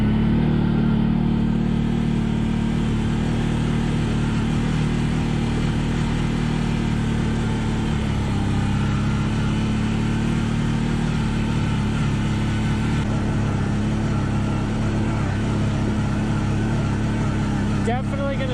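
CFMoto 800 XC ATV in two-wheel drive grinding up a fairly steep hill, a steady, loud engine drone holding throughout with a faint shift in pitch partway through.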